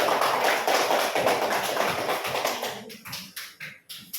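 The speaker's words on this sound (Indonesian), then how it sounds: "Kita tepuk tangan dulu buat" A class of schoolchildren claps hands, a dense burst of clapping that thins out into a few scattered, separate claps toward the end, close and with no talk over it.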